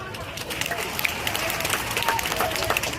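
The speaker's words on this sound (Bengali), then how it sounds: "সবাই হাততালি দাও।" Children and audience clapping at a school annual cultural function, a dense, steady burst of applause close by, mixed with crowd noise and voices.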